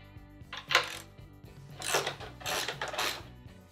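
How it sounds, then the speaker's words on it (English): Metal battery hold-downs on a Club Car golf cart are loosened and lifted out with a few clinking, scraping metallic knocks in short bursts, close by and fairly quiet. "Next, we want to remove our battery hold downs."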